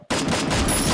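Dense rapid gunfire from a shooting video game, a loud continuous burst of shots that starts abruptly after a brief quiet moment, with no talk over it.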